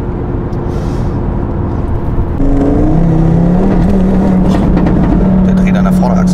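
Audi RS3 five-cylinder turbo accelerating hard with the front axle spinning, a loud steady engine drone that steps up in pitch and holds a rising whine, heard up close from inside with voices over it.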